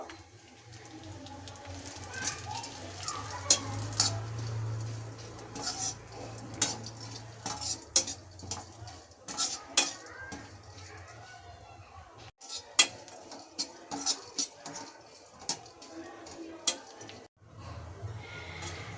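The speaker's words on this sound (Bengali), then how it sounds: "ড্রাই ফ্রুটগুলো আমি একটু ভেজে নেব" Crushed dry fruits are stirred in ghee in a pan, with frequent sharp scrapes and clinks of a spoon against metal over a faint low sizzle, fairly close and quiet.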